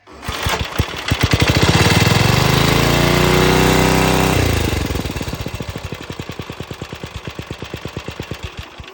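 A small gasoline engine on a wood splitter fires up close and loud with a rapid chugging pulse, revs to a steady roar, then settles into a slower, even idle thump that fades slightly.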